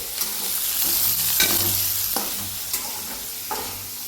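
Chopped onions with a little salt fry in a hot pan, giving a loud, continuous sizzle broken by scraping stirs and occasional clatters, with no voices.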